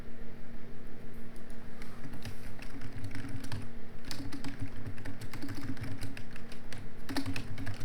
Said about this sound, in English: Oh, my typing today.